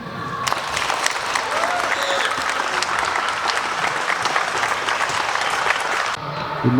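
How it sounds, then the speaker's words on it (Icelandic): A roomful of people claps steadily and loudly for several seconds at a football club's signing event, the dense applause holding even before stopping abruptly, with a few voices under it. "ég ætla nú bara að fá að byrja á að kalla eftir klappi hérna"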